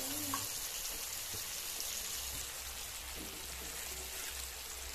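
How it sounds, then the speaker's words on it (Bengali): Spiced masala paste sautéed in oil in a pan for Bengali prawn malai curry, a steady soft sizzle and crackle running close and continuous with faint stirring touches, no voices. "তো তেল ছাড়া অবধি এটাকে কষতে থাকবো।"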